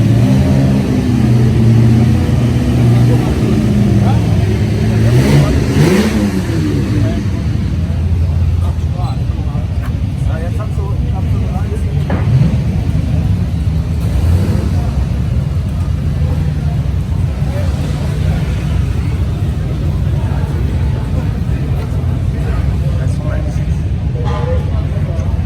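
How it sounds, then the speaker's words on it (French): Two vintage Maserati cars at the Montlhéry Vintage Revival 2024, a continuous loud engine roar with a rising rev swell early on and a constant crowd-and-track din, while someone talks over it. "Ce sont deux Maserati, les amis."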